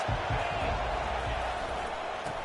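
A packed stadium crowd at a Texas A&M versus Texas college football game roars in a steady, dense wall of cheering, with a commentator's voice faintly underneath.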